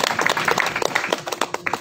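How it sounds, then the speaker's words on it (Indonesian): An audience applauds at a talk on culture, dense scattered clapping of many hands in a hall, steady and moderately loud throughout. "Kita beri tepuk tangan dulu."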